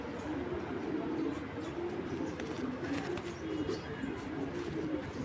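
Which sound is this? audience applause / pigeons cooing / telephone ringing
pigeons cooing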